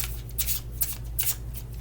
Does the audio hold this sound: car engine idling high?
no